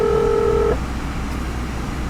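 Car phone system on a Subaru sounding a steady dual-tone dialing beep for under a second, then cutting off to a low cabin hum.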